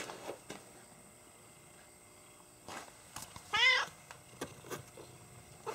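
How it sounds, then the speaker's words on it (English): A very active house cat gives one short, clear meow amid quiet room noise and a few soft knocks and rustles. "She's far too active a cat"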